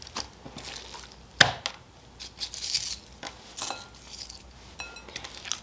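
A kitchen knife cutting through a whole raw chicken, with a few sharp cracks and scraping thuds against a cutting board, close and intermittent.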